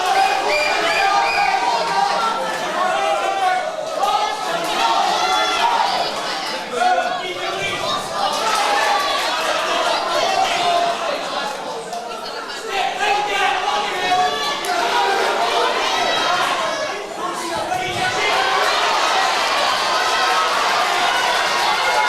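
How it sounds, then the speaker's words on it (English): A boxing crowd at a club season opener roars and cheers continuously, dense shouting and chatter swelling and dipping over twenty seconds, loud and enveloping. "Crowd got absolutely mental for this one."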